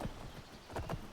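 Horse hooves clip-clopping in the Skyrim Special Edition video game, a few soft irregular hoof thuds at a moderate distance with no talking over them.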